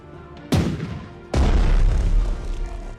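Heavy battleship guns boom twice in a naval war video game, each deep blast rolling into a long rumbling tail, loud and close with no voices.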